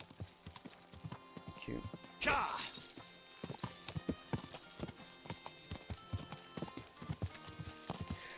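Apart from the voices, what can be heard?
horse hooves clip-clopping, video game Kingdom Come: Deliverance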